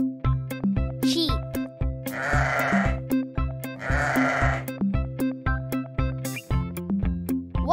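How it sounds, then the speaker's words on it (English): Sheep bleats come in two long, wavering calls over a steady backdrop of bouncy children's music, loud and close. "Sheep."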